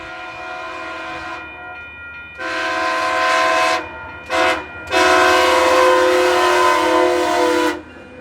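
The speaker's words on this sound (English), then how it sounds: "Yet another train heads northbound to Ogden," A northbound passenger train led by Locomotive 20 sounds its horn near a rail wye in Salt Lake City, blowing several long loud blasts with a short break and a brief toot between, over a low rumble of the passing train.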